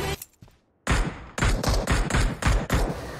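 Rapid bursts of gunfire from a battle royale shooter game, a short shot followed by a fast string of loud, close rounds fired in quick succession, with no voices.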